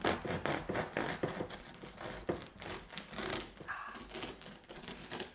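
A knife saws through a crusty, still-warm homemade sourdough loaf, giving a rapid series of close, crisp crackling crunches that ease off toward the end, with no talking.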